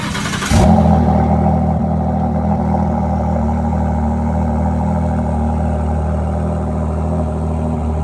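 A 2021 Ford GT with a 3.5-liter EcoBoost engine fires up with a sharp burst, then holds a loud, steady, deep idle rumble with no talking over it.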